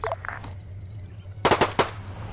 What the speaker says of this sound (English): Those are the gunshots.